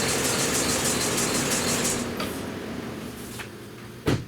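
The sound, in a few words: 2013 Lincoln MKX engine idling then being turned off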